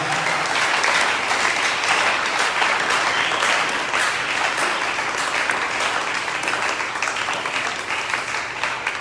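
A church congregation at a prophetic preaching service applauds loudly and steadily, dense sustained clapping filling the space without break.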